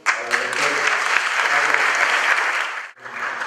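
A seated audience applauds a philosophy lecturer being introduced at an academic talk, a steady dense wash of clapping from many hands that holds for about three seconds, dips briefly, then resumes.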